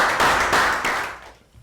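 A Year 3 class of children applauding in a health education lesson, a short burst of dense clapping that swells and then quickly fades away.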